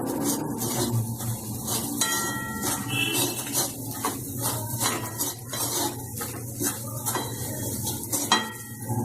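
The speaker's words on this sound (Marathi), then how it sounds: "एकसारखं हलवायचं" Vatli dal mixture being stirred in a pan, with steady scraping and clinking of a spoon against metal over a soft continuous sizzle, with no voices.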